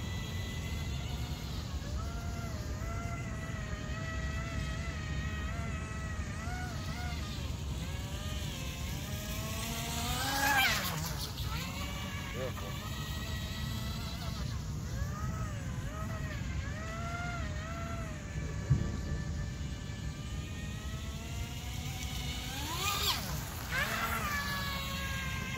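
An MHZ Micro Iceberg RC boat runs at about half throttle, its small motor giving a continuous buzzing whine that rises and falls in pitch as it turns and passes, heard at moderate distance.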